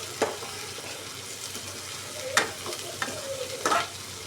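Potatoes are stirred into reddened onions frying in a pan. A soft steady sizzle runs under a few sharp spoon scrapes and stirring strokes.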